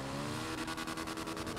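A motorbike is ridden through snow in GTA 5, its engine drone steady and loud throughout, with a rapid rhythmic pulsing in the second half and no talking.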